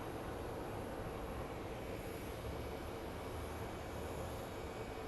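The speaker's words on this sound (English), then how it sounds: "So up next on our arrival is a MD-11" A UPS Airlines MD-11 cargo jet, built in 1993, comes in to land with a faint, even, distant engine rumble and rush that stays steady with no voices.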